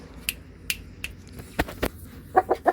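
A rooster at a bird shop in a market gives a few short, close clucks near the end, after scattered sharp clicks and knocks over a quiet background.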